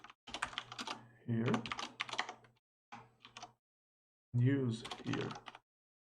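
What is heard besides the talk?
typing on a computer keyboard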